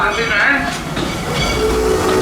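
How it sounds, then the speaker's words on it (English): Steady rumble and clatter of a moving steam train ride at Kings Island amusement park, heard from on board, with faint squeals and continuous rolling noise throughout. "Proper realistic steam train"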